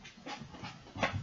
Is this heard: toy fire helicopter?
no